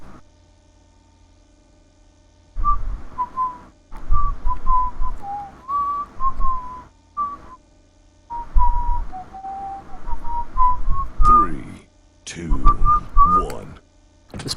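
A man whistles a melody during a pause in a Quake Live team deathmatch broadcast, the phrases coming in several bursts with short gaps, close and clear, ending with some talking.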